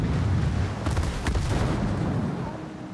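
Naval guns booming and shells striking a warship in the World of Warships video game, a dense low rumble with a few sharp impact cracks in the middle, loud and continuous throughout.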